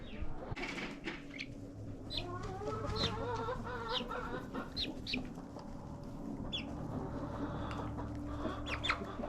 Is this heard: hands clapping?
no